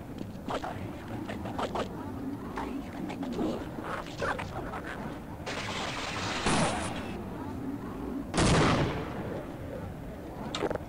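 Grenades blow up in the game Half-Life, two loud, close bursts a couple of seconds apart that stand out over a mix of earlier gunfire and sharp in-game noise.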